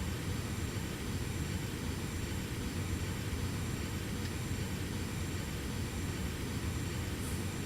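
Cirrus SF50 personal jet in the X-Plane 11 flight simulator, a steady loud roar of engine and airflow noise from inside the cockpit, unbroken throughout with no talking.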